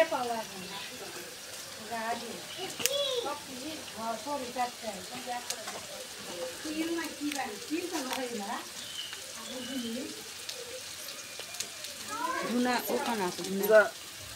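Ginger, garlic and cumin paste fries in a pan with a steady close sizzle and occasional clatter of stirring, while a voice talks over it throughout.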